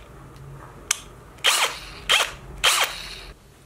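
A Bosch cordless drill whirs up in three short, rising bursts at close range, with a faint click just before them and quiet pauses in between.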